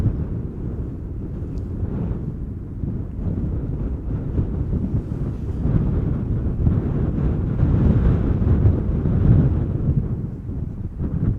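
Wind blows steadily across Schiphol Airport in the Netherlands, a continuous low buffeting rush against the microphone that swells slightly midway, with no talking.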